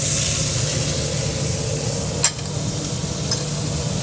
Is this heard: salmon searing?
yes